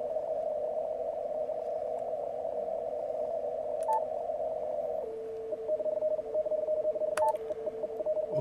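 An amateur radio contest signal comes through a 300 Hz filter as a steady narrow tone over faint background hiss, shifting pitch slightly partway through with a few brief clicks.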